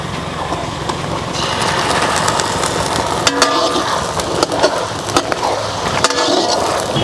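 Onions and ginger paste frying in a large pot of oil for a chicken biryani, with steady sizzling and repeated scraping stir strokes of a ladle, loud and close throughout, no talk.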